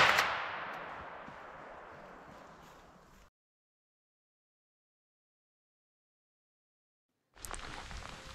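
A single loud rifle shot fired at a roe buck during a driven hunt in bad weather, a sharp crack followed by a long decaying echo, then silence before outdoor ambience returns.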